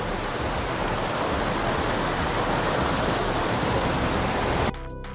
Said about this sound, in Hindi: सर ये देखिए राला वाटरफॉल